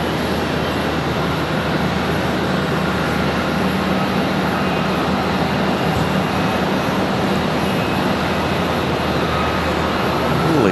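Regional ERJ and CRJ jets taxi out at Charlotte Douglas International Airport, their engines making a steady, broad roar that holds at an even level throughout with no talk.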